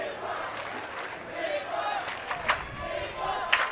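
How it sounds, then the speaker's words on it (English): Crowd at the U24 Ultimate Frisbee World Championships mixed final, USA versus Japan, chanting "Nippon cha-cha-cha" as a distant, reverberant mass of voices with a few sharper shouts rising out of the steady roar. "you can hear the crowd, the Nippon cha-cha-cha, Nippon cha-cha-cha"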